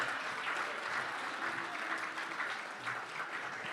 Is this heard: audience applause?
yes